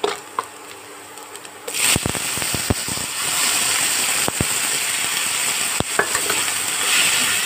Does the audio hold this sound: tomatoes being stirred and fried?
yes